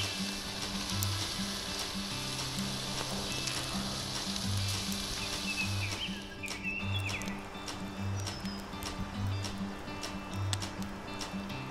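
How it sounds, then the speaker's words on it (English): Sausage and eggs sizzling in a pan on a camp stove outdoors in spring, a steady close crackling fry running throughout with a few clinks and small scrapes mixed in. "see about getting some sausage and eggs cooking"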